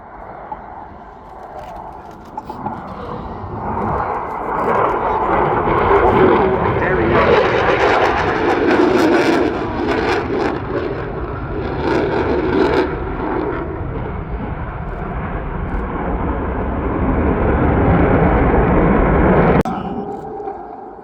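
At the RAF Cosford Airshow, a military display jet's engine roar builds from moderate to loud and holds as the aircraft manoeuvres, then cuts off sharply near the end. A commentator speaks over the noise.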